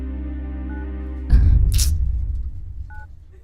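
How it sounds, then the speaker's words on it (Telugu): A telephone being dialed, a short burst of keypad tones followed by a louder rustling handling noise, then a brief beep near the end, in a quiet indoor scene with low background music. "ఎన్నిసార్లు ఫోన్ చేసినా ఫోన్ కలవడం లేదు"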